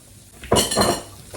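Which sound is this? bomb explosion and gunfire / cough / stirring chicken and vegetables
stirring chicken and vegetables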